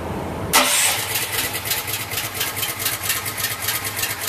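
Honda motor cranking and catching, then settling into a steady pulsing idle as it warms up, close and fairly loud with no talking.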